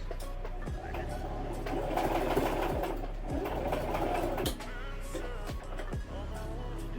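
A sewing machine stitches a skirt in quick rapid bursts, loud and close, with brief pauses and clicks between runs and no talking.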